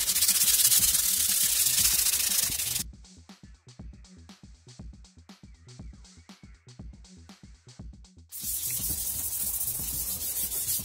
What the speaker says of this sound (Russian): Ну вот и шлифовка подходит к концу.